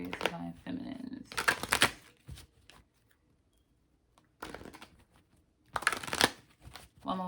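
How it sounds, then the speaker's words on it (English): A deck of cards is riffled and shuffled in a few loud, brisk bursts with quiet gaps between, close up, with someone speaking softly at times. "One more shuffle."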